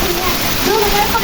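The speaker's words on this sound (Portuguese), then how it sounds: "O temporal agora à tarde aqui, ó. Chuva forte." Heavy afternoon rainstorm with strong wind in the Pernambuco sertão, Brazil: a loud dense rush of rain and running water pours steadily while someone talks over it.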